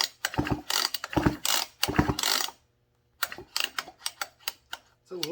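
Recoil starter pawls on a Husqvarna 55 chainsaw click back and forth in quick ratcheting bursts, close and fairly quiet, with a short pause midway before sparser clicks resume.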